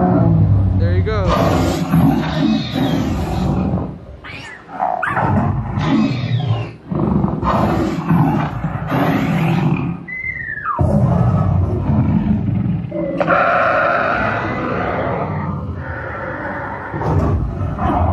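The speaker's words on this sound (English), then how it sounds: "So these make dinosaur sounds when you step on them. Let's step in the T-Rex one." A dinosaur roar meant as a T-Rex bursts from a sound-triggered footprint pad in the Camp Jurassic play area at Universal Studios Orlando. It is loud, drawn out and mixed with park noise, and people talk nearby.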